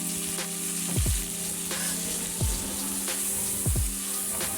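Mustard seeds, curry leaves and ground masala fry in hot oil for vangi bath, making a close, continuous crackling sizzle with a few low thumps and scrapes from stirring at intervals.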